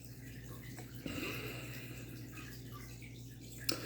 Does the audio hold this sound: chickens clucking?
no